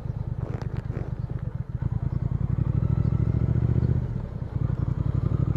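A Triumph Speed Twin 1200 motorcycle idles and pulls away close by, its twin-cylinder engine giving a deep, loud, rapid pulsing thrum that swells briefly as it revs, then settles back to a steady throb.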